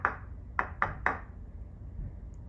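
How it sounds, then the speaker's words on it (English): Knocks on a house door: one rap and then three quick raps in a row, close and fairly loud, followed by a quiet pause. "knocked on the door"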